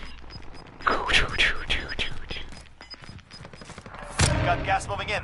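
Rapid bursts of video game gunfire from a drum-magazine weapon, loud and near, with sustained automatic volleys and sharp shots while a voice talks over the action.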